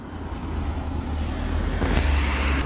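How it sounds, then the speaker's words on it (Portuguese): Cars on a fairly deserted street, a low continuous rumble of traffic that swells toward the end as a vehicle draws nearer, moderately loud and without talk. "passa alguns carros"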